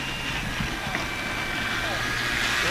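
An E-flite Carbon Z Cessna 150T electric RC plane coming in to land on takeoff flaps, its motor a steady high whine over constant wind and outdoor noise, with a faint buzz throughout.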